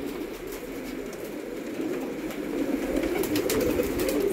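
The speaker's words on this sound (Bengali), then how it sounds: "সব রেসার পায়রা আছে" Racing pigeons coo in a steady, low murmur that grows slightly fuller toward the end, with no voices over it.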